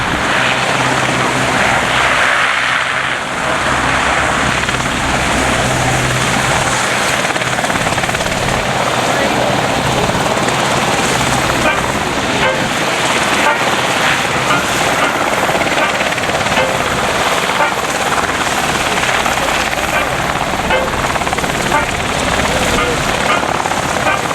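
Loud, continuous rotor and engine roar of three Merlin helicopters passing overhead at an air day at RNAS Culdrose, a dense wash of noise that stays strong throughout with no quiet gaps.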